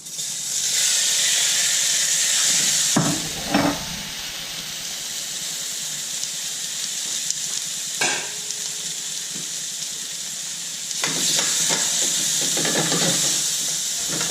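Shrimp seasoned with Seafood Magic sears in olive oil in a pan with a loud, constant hiss. Bursts of stirring and clattering break in a few times, and no one speaks.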